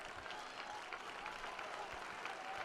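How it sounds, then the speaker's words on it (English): Baseball crowd at a D4 state championship game in Canton, clapping steadily and continuously for the whole stretch, a broad dense wash of many hands with a faint murmur of voices underneath. "They got that slow clap turning into a whole bunch of people rising up to the occasion here in Canton."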